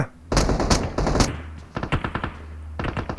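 Gunfire in PUBG Mobile: loud close automatic bursts, a few heavy shots spaced apart, then rapid rattling volleys after a short gap, with a low hum underneath.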